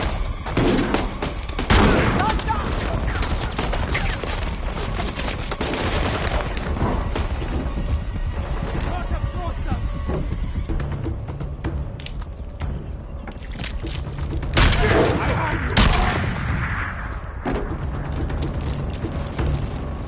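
Video game gunfire in Uncharted: The Lost Legacy, dense bursts of shots and booms filling the whole stretch with louder volleys near the start and middle, and a little shouting mixed in.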